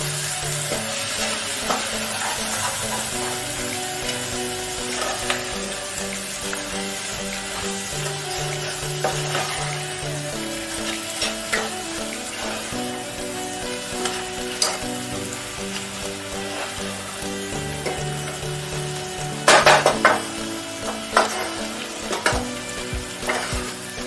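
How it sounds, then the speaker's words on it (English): Chicken frying in a pan while being stirred, a steady close sizzle with scraping stir noises throughout and a brief louder clatter near the end, no talking. "Give it a good stir."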